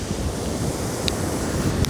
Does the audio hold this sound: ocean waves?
yes